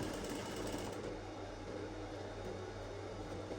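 A sewing machine stitches Aso Oke fabric with a steady, close, continuous mechanical hum, running alone without talk.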